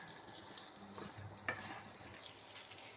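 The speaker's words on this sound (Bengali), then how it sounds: "হলুদ দিয়ে নুন দিয়ে কচুটা ভাজতে হবে একটু লাল লাল" Taro pieces fry in oil with turmeric and salt, making a soft continuous sizzle with a few stirring knocks, one sharp clink near the middle, and no talking.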